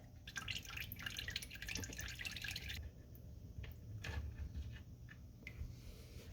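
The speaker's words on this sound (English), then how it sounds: "we got some transmission fluid dripping out there" Transmission fluid dripping from a Kia, Hyundai, Dodge or Jeep transmission case during a fluid temperature sensor replacement, soft irregular drips falling into a pan, faint and close against a low steady hum.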